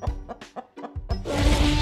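A cartoon chicken clucks in a quick string of short, close, loud bursts, followed by a burst of rushing noise, with no talking.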